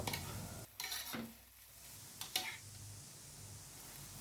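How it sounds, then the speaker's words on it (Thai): Bamboo shoots dry-roasting in a pan until the oil cooks off, a faint, steady sizzle with a couple of short stirring scrapes and clinks against the pan. "คั่วคั่วไปเรื่อยๆจนจนรู้สึกว่ามันน้ำมันแห้งนะครับ"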